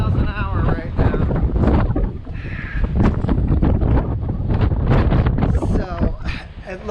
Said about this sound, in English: So gusts over 60 miles an hour right now.